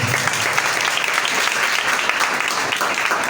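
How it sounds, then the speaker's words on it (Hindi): A church congregation claps loudly during a Sunday service, a dense, steady wash of applause filling the whole clip with a faint voice underneath. "खुदावंद यीशु मसीह के जलाल के लिए जोरदार ताली।"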